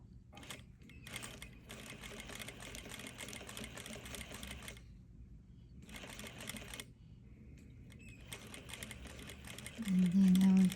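A sewing machine sews a collar in several runs of rapid, even stitching broken by short silent pauses. A voice speaks briefly near the end.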